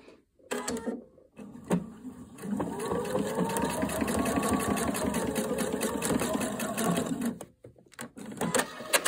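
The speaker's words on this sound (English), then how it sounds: "We're going to stitch right here." A sewing machine stitching across the front band of a flannel shirt runs in one steady, close, mechanical whirring burst of about five seconds, with short starts, stops and handling noises around it and no talking.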